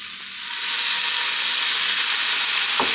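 Vegetables sizzle and steam in a hot pan, building from a quiet start into a constant loud, bright hiss, with a small clatter near the end.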